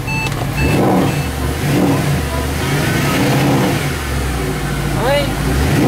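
Close, loud engine of a Mercedes-Benz SLS idling and revving in several rising and falling surges, with a short beep near the end and voices talking over it.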